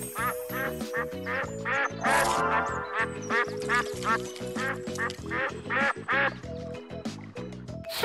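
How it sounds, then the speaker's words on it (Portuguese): Cartoon ducks quack repeatedly in a lively, overlapping series of loud nasal calls, near and continuous, with a bright background musical tone underneath. "Esses patos parecem muito felizes."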